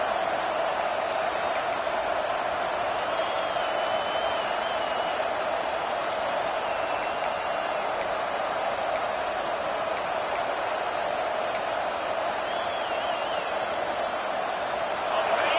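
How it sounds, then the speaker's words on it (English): A college football stadium crowd roars in a steady, sustained wash of noise, with a commentator talking over it. "It's early, but this crowd is fired up. Listen to this noise here."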